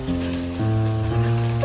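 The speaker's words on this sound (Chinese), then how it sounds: "快速的把鸡蛋炒散" Eggs with diced eggplant stir-frying over high heat in a wok, a steady close sizzle that holds constant with a faint underlying hum and no voices.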